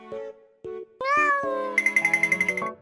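A cat meows in short tonal calls mixed with bright chiming, cartoonish electronic sounds, all close and loud with no talking.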